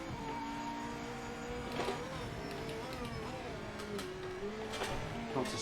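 A Porsche GT race car in the sim racing game Project Motor Racing, engine note rising and shifting through gears with sharp upshift blips, steady and close throughout.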